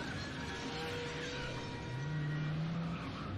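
A car in a movie car-chase scene does a handbrake turn, giving a low engine roar with a rising tire squeal and skid, loud and continuous over a few seconds.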